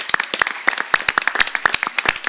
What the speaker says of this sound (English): So let's give these girls a round of applause.